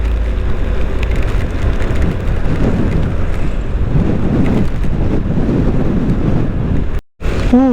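Heavy rain and strong wind buffet a rider on a motorbike in Bali, a loud continuous roar with wind rumble, cutting out briefly near the end.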